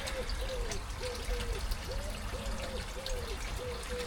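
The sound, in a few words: water trickling through bakki shower koi pond filter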